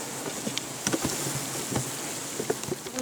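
Honeybees packed densely into a hive in mid-September, a continuous close buzzing drone with occasional small knocks and taps.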